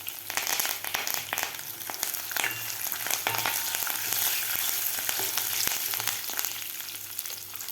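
Curry leaves and ginger crackle in hot oil in a pan for yogurt upma, a continuous close sizzle broken by sharp pops and spatters.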